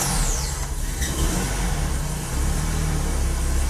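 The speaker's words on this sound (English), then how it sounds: "Let's start the engine up." A Nissan car engine cranks and catches, a short burst of starter noise giving way to a steady low idle rumble close by, no talking.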